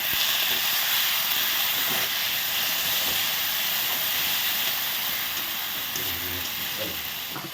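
Spices frying with onions in a pan while cooking a meat curry, a loud continuous hiss and sizzle filling the whole stretch, with faint clinks and stirring underneath and no clear speech.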